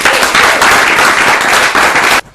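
Audience applause at a secondary school debate competition in Uyo, a dense, loud burst of clapping filling the room that cuts off sharply near the end.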